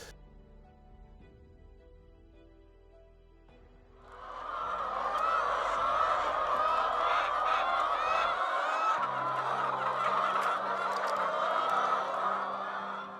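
Hens on an egg farm housing around 8,000 birds, a dense, continuous chorus of clucking and squawking that swells in after a quieter start and stays loud and steady.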